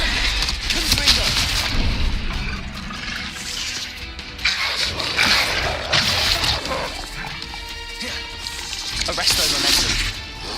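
Confringo fire blast spell in Hogwarts Legacy, heard as repeated booming bursts that rise out of a dense, continuous wash of battle sound and game effects.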